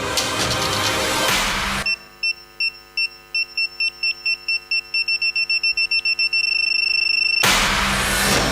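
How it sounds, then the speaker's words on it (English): High electronic beeps sound at a conference opening ceremony, a steady train of short regular pulses that speeds up into a long continuous tone, clear and alone between bursts of room noise. "did you hear that beeping sound?"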